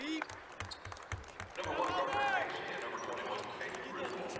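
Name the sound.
crowd applause at a basketball game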